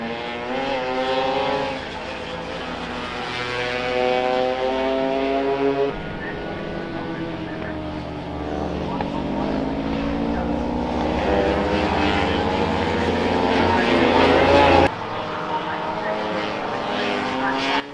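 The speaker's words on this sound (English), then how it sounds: "And these machines revving really well." MZ racing motorcycles revving hard as they pass through Oulton Park circuit, a continuous, loud, droning engine note with rising and falling pitch that swells and shifts as machines go by, with a sharp change midway.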